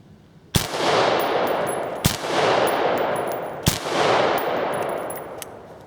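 An AR-15 rifle fires PMC X-TAC 62-grain steel-core rounds outdoors: three loud, sharp shots spaced about a second and a half apart, each with a long ringing tail, plus faint metallic pings between them.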